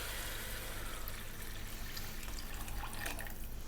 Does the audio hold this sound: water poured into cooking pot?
yes